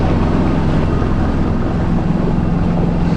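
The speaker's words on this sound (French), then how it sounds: "c'est au moteur qu'on effectue les 8 derniers milles jusqu'au pot de vie" A sailboat motors on engine power in calm air, with a steady low drone mixed with wind and water noise throughout, no voices.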